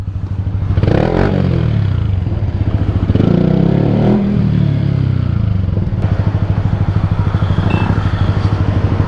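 A brand-new motorcycle engine rumbles loudly nearby while riding, its pitch rising and falling with throttle changes and occasional clattering.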